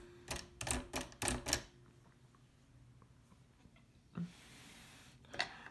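Keys on a 1908 Hammond No. 2 typewriter being struck in a quick run of four or five sharp clacks, followed by a couple of fainter isolated taps and a space bar press, close and quiet in a still room.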